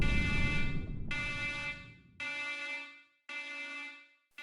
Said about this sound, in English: The alarm sounds.